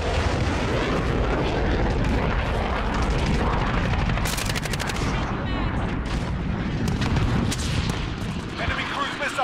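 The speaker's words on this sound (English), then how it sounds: "Allied cruise missile away." Cruise missile strike in Call of Duty Modern Warfare ground war: continuous loud roar of jet engines and heavy explosions with booming impacts and gunfire, dense battle noise throughout.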